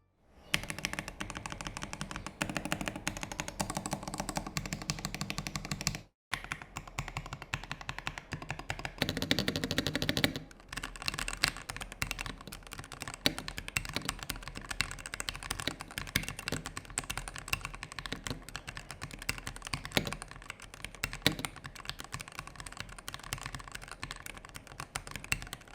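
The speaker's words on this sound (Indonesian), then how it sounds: "untuk suara typing dari Gateron Pro Yellow yang gue dapet ini suaranya kayak begini" Continuous typing on a Press Play Voyager68 Lightyear Edition keyboard fitted with Gateron Pro Yellow switches: dense, rapid clacks at close range, with a brief pause around six seconds and a denser burst shortly after, no talking.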